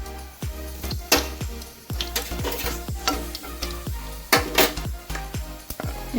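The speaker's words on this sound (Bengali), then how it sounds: "মৌরিটা ফুটে উঠলো, এখন আমি একটু হিং দিয়ে দিলাম।" Asafoetida dropped into hot oil where fennel seeds are already sizzling, giving a steady frying crackle broken by repeated close scrapes and clinks of a spatula stirring in the pan.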